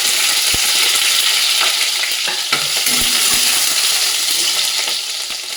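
Ginger, garlic and green chilli frying in hot oil in a wok, giving a loud steady sizzle with a few scrapes of stirring.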